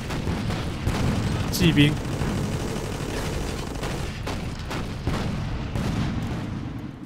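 In Toy Soldiers, heavy cannon-like booms from an anti-tank gun go off repeatedly beneath someone speaking Chinese, mixed with other battlefield fire.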